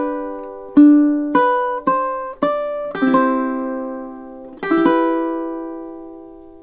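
A fingerstyle ukulele plays a relaxing melody, with individually plucked notes ringing over one another and a few brighter chordal strums, close and clear with long sustain at the end and no talking.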